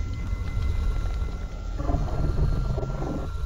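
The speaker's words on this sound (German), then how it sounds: "Ich höre die Schattenmonster." Shadow monster noises in the video game SCP Containment Breach form a low, continuous droning rumble with faint, wavering, moan-like tones, steady and fairly loud throughout, with no talking.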